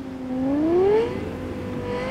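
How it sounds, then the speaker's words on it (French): Fastest car in Cyberpunk 2077 revving hard, its engine pitch climbing steeply then settling into a steady whining drone, loud and close with no talk. "C'est la voiture la plus rapide du jeu."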